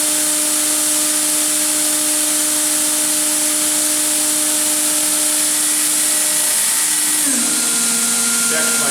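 Fanuc Robodrill Alpha-T21iD vertical machining center spindle spinning at 18,000 rpm, a steady high whine with sustained tones that shift and drop near the end as the speed changes, heard up close with no other machinery running.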